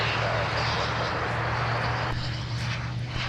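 Steady, loud roar of a United Airbus A320 airliner with IAE V2500 engines passing close at an airport, a continuous broadband jet rush with a low drone underneath, throughout.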